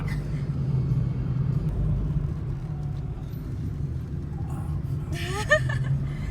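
A car on a winding mountain road in Albania, its engine giving a steady low rumble from inside the cabin, with faint brief voices and laughter near the end.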